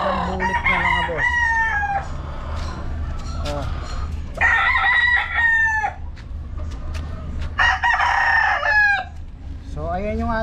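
Red gamefowl stags crow repeatedly and cluck nearby, three loud crowing calls standing out over constant farmyard background noise.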